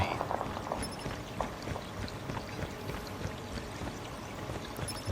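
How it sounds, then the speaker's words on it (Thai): Steady rushing water in the game Call of Duty Mobile fills the background, a continuous flowing wash with some voice and scattered clicks over it. "เสียงน้ำไหลดังมากอะ"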